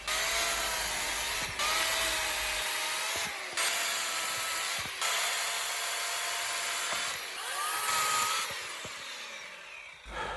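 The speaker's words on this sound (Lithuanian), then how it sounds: "Va čia jau kiek storesnė šaka ir pjaunu ją įstrižai, bet pjūklas puikiai susitvarko." A chainsaw with a new, sharp chain cuts diagonally through a thicker, clean tree branch, its close, loud engine whine holding steady in long stretches broken by short pauses as the cut progresses.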